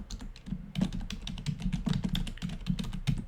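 Rapid typing on a computer keyboard while entering text into a website editor, a steady close patter of key clicks with small bursts and no voices.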